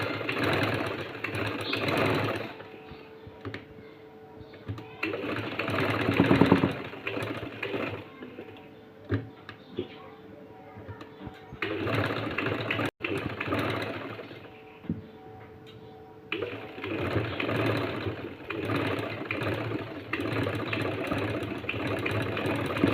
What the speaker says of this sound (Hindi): ये सिलाई हम पेपर पट्टी के ऊपर लगाएंगे इस तरह से।